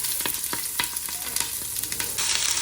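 Beef bourguignon simmering in a pot, a constant bubbling hiss with soft, regular stirring taps, close and fairly loud, with the hiss brightening near the end.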